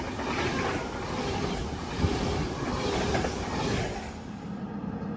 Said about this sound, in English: there's 39128 to Preston from London Euston